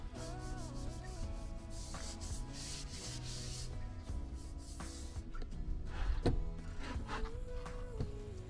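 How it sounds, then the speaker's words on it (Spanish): Dried filler on a boat is sanded by hand with 120-grit sandpaper, a close, steady rasping rub in repeated strokes, with some tonal background sound running underneath. "Una vez seca la masilla la lijamos, en este caso con lija de 120."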